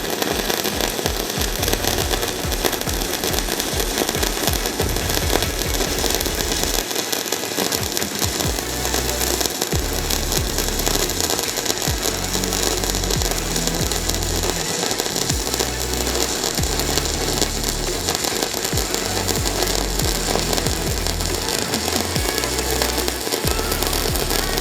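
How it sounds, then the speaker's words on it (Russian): Electric arc welding of seams, a steady loud crackling buzz with sputtering pops running unbroken the whole time, no voices. "Давайте мы сейчас несколько шовчиков поварим."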